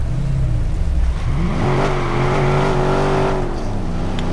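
Car in the video game Watch Dogs driving and accelerating, a steady loud engine note climbing in pitch through the revs and holding high before easing slightly, continuous with no talk.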